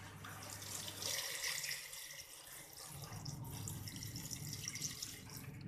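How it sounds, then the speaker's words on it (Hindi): Water pours into a cooking pot holding chicken with salt and pressed chillies for a chicken shami recipe, a steady soft splashing stream that shifts in tone partway through, quiet and with no talking. "अब इसमें हम पानी डालेंगे।"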